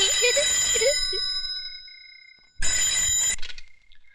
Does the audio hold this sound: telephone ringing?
yes